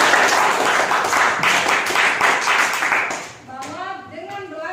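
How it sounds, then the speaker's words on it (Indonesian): A classroom of students claps for a classmate during a trigonometry lesson, loud close applause lasting about three seconds, then a voice speaks as the clapping dies away. "Silakan kasih aplaus untuk Haji"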